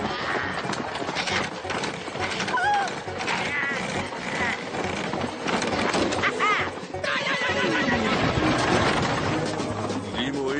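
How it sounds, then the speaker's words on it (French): Horses just unhitched from a stagecoach whinny and clatter off in a busy cartoon scene, loud and dense, with voices mixed into the noise. "Très bien, je détache les chevaux."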